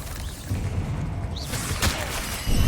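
A Confringo blasting spell in Hogwarts Legacy bursts out with a whooshing blast and sharp crack, followed by a rumbling explosive wash and debris, loud and close with no talk.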